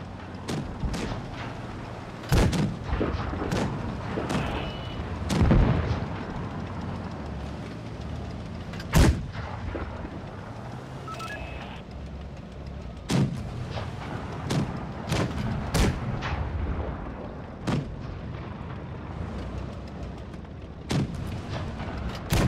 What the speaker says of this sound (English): Shooting is very weird.